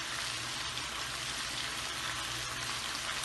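Karela gosht, bitter gourd with mutton, frying dry in a pan, an even continuous sizzle heard up close with no talk.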